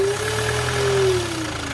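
Land Rover Discovery Sport engine with a knocking big end bearing, revved briefly so a steady tone rises slightly and then falls, with a rapid knocking pulse beneath, close and loud.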